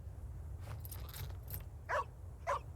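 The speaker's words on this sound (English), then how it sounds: "And I wave. He'll bark." Two short, sharp dog barks about half a second apart in Farm Together 2, fairly close and clear over a steady low hum, with faint softer yips before them.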